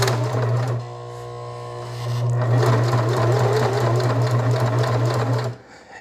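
A sewing machine back-stitches elastic into a beer box cowboy hat, its motor running loud and close in a steady buzzing hum that dips briefly, then resumes for several seconds before stopping.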